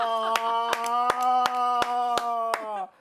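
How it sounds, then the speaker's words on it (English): A person claps their hands for themselves on a Nigerian TV talk show, about eight crisp, evenly spaced claps over a sustained held musical tone, stopping just before the end. "Why are you clapping for yourself?"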